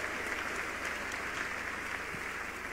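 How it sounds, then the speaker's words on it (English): A church congregation claps together in a sustained, even round of applause that fills the whole moment, dense and steady with no voices standing out. "Give the Lord a mighty clap offering."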